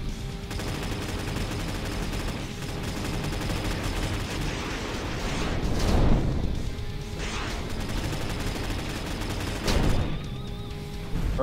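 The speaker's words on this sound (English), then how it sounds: "Oh, that's right, the missiles arc up." Missiles firing in the vehicular combat game Motor Strike: Racing Rampage, heard as a few whooshing launches and blasts over a constant roaring engine and game din, with louder bursts near the middle and end.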